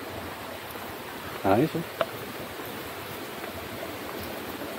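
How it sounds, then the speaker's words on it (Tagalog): Rushing water at Bunga Falls in Nagcarlan, Laguna makes a steady hiss heard from a short distance, and someone speaks briefly over it. "Dinig nyo na ba yung lagaslas ng tubig mga parikoy?"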